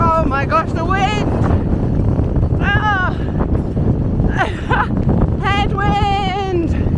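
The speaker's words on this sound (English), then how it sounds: "Oh my gosh, the wind." Strong wind blows across open fells during a fell race. It is a loud, continuous roar that buffets the microphone, with voices calling out over it.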